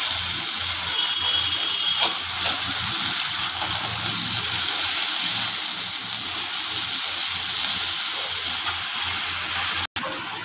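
Ginger paste sizzles loudly in hot oil already seasoned with cumin, bay leaf and dried chilli, alongside cauliflower and potato, making a continuous broad frying hiss that stays steady throughout with no talking over it.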